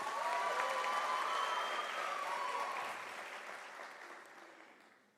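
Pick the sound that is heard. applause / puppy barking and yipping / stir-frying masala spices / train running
applause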